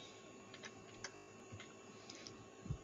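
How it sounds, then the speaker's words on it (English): Computer keys are tapped in a short burst of faint, light clicks spread across a few seconds, ending in a slightly firmer press like the enter key, in a quiet room with no talking. "Then you hit the enter key on the keyboard."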